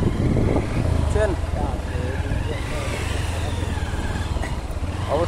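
Motorbike engine labouring steadily as it rides through soft sand on Kauarchar island near Kuakata, a continuous close drone with speech over it.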